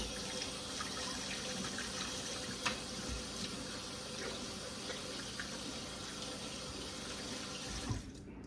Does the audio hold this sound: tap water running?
yes